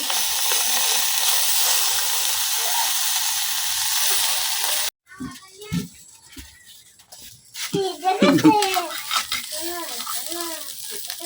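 Loud sizzling from a hot pan of frying fish fills the first few seconds, then quieter frying with scraping and stirring sounds, while people talk over it.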